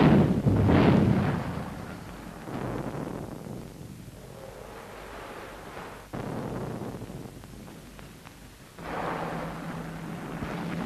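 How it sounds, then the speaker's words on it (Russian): Distant cannon artillery booms roll in from afar in a Soviet-style partisan war film set on the Ukrainian steppe, several muffled heavy thuds with long rumbling decays spread across the stretch, no voices over them. "Это бьют их пушки!"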